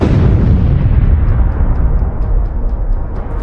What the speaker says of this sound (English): The BMP's onboard ammunition detonates in a massive explosion.